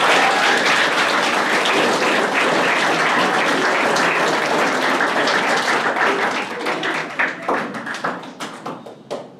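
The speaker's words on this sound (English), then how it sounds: "can we get one more huge round of applause for all of our awards?" Sustained applause from a crowd at a school sixth-grade award ceremony, dense and steady for several seconds before thinning into scattered individual claps toward the end.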